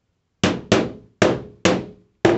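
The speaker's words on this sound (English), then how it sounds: "Just hammer down my staples to make sure nothing's sticking up." Staples are hammered down flat onto metal lath, giving five sharp, loud metallic strikes in an uneven rhythm, each ringing briefly before the next blow.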